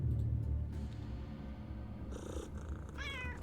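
A cat in UnderRail purring in a steady low rumble, close and continuous, briefly joined by higher game sounds near the end.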